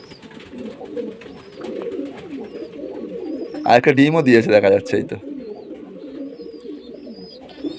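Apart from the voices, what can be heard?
pigeons cooing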